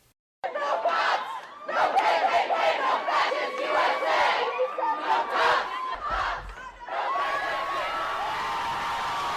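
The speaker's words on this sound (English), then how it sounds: "destroying the monument, and then cheering like they've done something grand and glorious" A crowd of protesters cheering and shouting loudly as a Confederate soldiers' monument is toppled, a dense roar of many voices with rising yells, rolling on for several seconds.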